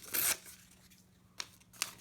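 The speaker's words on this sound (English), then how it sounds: "I kind of just tear around it" A paper page is torn by hand for card-making: one brisk ripping burst at the start, then two short, faint tearing snaps in a quiet room.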